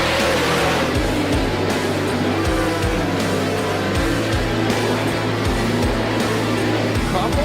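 Several sprint cars race three wide through a turn on the dirt track at Williams Grove. Their engines keep up a dense, steady roar with pulsing, overlapping revs throughout.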